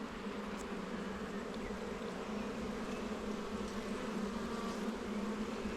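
A dense, steady hum of many honey bees buzzing close by inside an open hive, continuous and even, with no other sounds.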